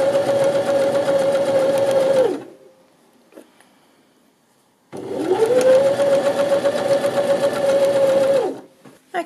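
A sewing machine stitches ribbon onto a knit jersey shoulder seam, running steadily in two bursts of about two and a half and four seconds, with a quiet pause between them.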